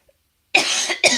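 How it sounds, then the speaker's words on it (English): Two harsh, close coughs from one person come after a moment of silence, the first longer and rasping, the second short and abrupt. "now I'm coughing my head off"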